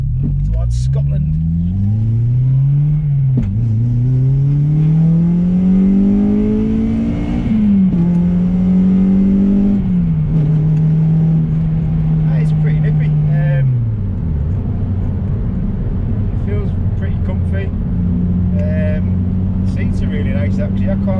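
A Honda Civic Type R engine hums and rises as it accelerates through gears, then settles into steady cruising, close and continuous with road noise.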